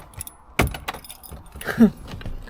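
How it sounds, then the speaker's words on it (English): A bunch of car keys jangles briefly and close up inside an old Rover P4 saloon, with a sharp knock early on and a second short rattle of metal near the end. "let me get the key back out"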